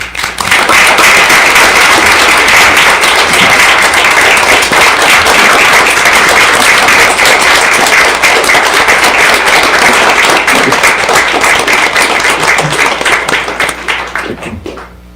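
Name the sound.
applause for police officers at city council meeting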